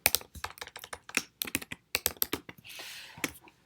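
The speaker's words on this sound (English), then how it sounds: "if I click in, I can type on the screen" Keys on a computer keyboard clatter in quick, uneven bursts of close taps, with a brief soft rustle between them.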